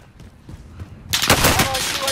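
Bursts of automatic gunfire from a Call of Duty: Modern Warfare multiplayer match break out loud and dense in the second half, following a quieter stretch with faint game voice callouts.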